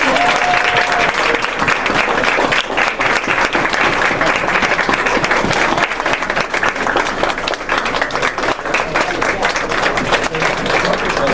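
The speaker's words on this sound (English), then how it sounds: "Give them another big round of applause." Sustained audience applause at a county board of education meeting, dense steady clapping from a room full of people, loud and continuous throughout.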